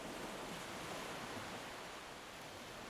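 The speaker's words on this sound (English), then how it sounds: "You can hear the waves gently lapping up against its bow" Gentle sea waves lap against a boat's bow in a steady, soft wash of water noise with no distinct breaks, calm and continuous with no voices.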